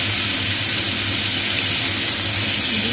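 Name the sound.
boiled cauliflower and potato frying in pan with fish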